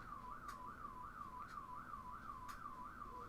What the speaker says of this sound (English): Can someone shut up that car alarm?